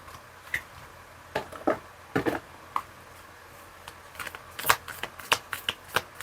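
Tarot cards shuffled close up, with crisp, irregular riffles and flicks that come in scattered bursts against a quiet room.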